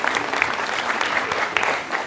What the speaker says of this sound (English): A round of applause, amazing.